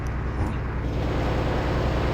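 A bus engine labours on a steep mountain road near Munnar, a steady low droning rumble close by that holds constant throughout.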